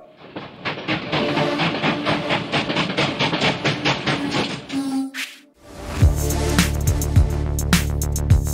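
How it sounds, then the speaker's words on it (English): A podcast intro train effect: rhythmic clickety-clack of wheels rolling steadily and loud, a short pause, then a sustained train whistle blast. "On aboard the choo-choo train!"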